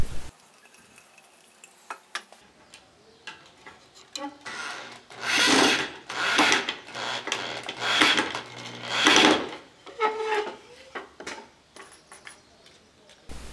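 Power drill driving screws into reclaimed wood, several separate bursts of whirring and grinding a few seconds apart at close range, with quieter handling between them.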